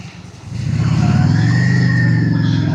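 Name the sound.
tractor engine passing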